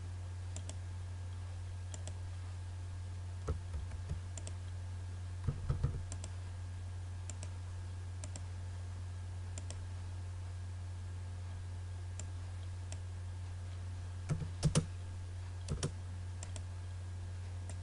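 Sparse, light clicks from a computer keyboard as AutoCAD commands are entered, coming in small bursts over a steady low electrical hum, with no talking.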